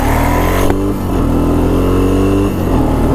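A Honda Foreman 400 ATV engine accelerates in first gear, close and loud, its pitch climbing steadily with a short dip partway through as the revs wind up.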